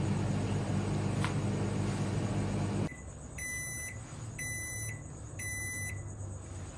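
A steady microwave hum runs while defrosting cold rice, then cuts off abruptly, followed by three evenly spaced high electronic beeps.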